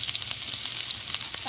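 Bay leaf, cumin and chopped ginger frying in hot mustard oil, a close, steady sizzle with crackling pops and light stirring.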